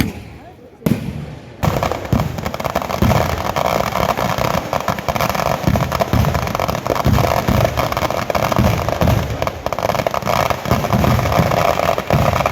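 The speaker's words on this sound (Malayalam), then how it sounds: "നമ്മളെ വെടിക്കെട്ട് കഴിഞ്ഞിട്ടുണ്ട്" Festival fireworks burst during a temple thira celebration in Mananthavady, Kerala, a dense rapid crackle of loud explosions running almost continuously after a short quiet start, with crowd noise beneath.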